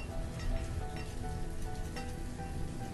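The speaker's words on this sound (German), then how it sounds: "ich finde das zwar cool, dass es regnet, auch im Winter" Steady rain falls across a village in the medieval city-building game Banished, a dense even patter of drops on surfaces, constant and moderately loud with no voices.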